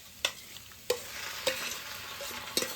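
Noodles tossed into a sizzling pan of masala with a few fried chicken pieces, stirred in several sharp scraping strokes over a steady frying hiss, close and fairly loud.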